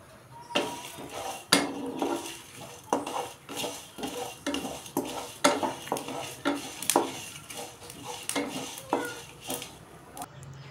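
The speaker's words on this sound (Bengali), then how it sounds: "কড়াইটা গরম করার পর একটা ভাজা মশলা তৈরি করে নেব।" Dry chillies, coriander and cumin being dry-roasted in a kadai, with irregular metallic scrapes and clinks of a utensil against the pan over a faint steady hiss, close and moderately loud.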